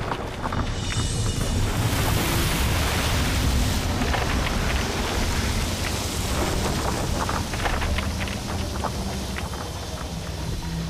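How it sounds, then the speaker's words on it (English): Wind-driven rain sweeps across the open Arctic tundra under harsh, misty weather blowing in from the ocean, a loud, dense, unbroken roar of rain and gusting wind with no voices. "The wind and the rain continue to change the Arctic viewscape."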